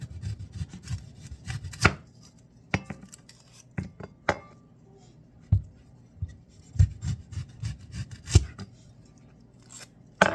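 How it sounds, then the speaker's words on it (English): Knife chops onions on a cutting board in irregular sharp thuds, some isolated and some in quick bursts, close and fairly loud against a quiet background. "next up on the cutting board is the onions."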